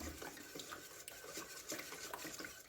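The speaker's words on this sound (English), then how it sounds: "So give this a good stir, let it sit for a little while" Marinade for masitas de puerco being stirred in a pot, a soft continuous swishing and scraping with faint knocks against the pot, close but quiet, with no talking.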